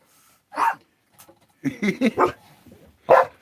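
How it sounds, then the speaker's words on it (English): Several dogs let out scattered barks and yelps in short bursts during rowdy play, some close and loud, with quieter whimpering sounds between them and a pause of near silence. "Dogs are having a good day."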